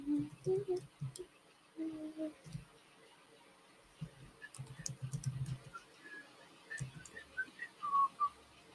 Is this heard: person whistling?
yes